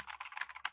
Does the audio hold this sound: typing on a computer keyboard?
yes